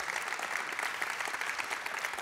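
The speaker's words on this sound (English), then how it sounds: "Let's give him a round of applause." Audience at a Theology Nights talk claps steadily at the close of the session, a soft, even patter of many hands heard from some distance, without pause through the short stretch.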